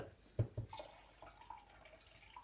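Water splashes and trickles into a measuring cup with a couple of small clunks, faint and close in a kitchen.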